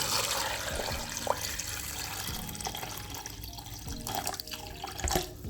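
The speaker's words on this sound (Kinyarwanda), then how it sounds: "tugiye gushyiramo amazi azirengera" Water is poured into a blender over chopped carrots and bananas, a quiet, close splashing and trickling stream with a few small drips and knocks.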